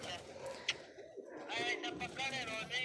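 High-flyer pigeons coo in soft, repeated throaty calls close by while being fed grain, with someone speaking over them.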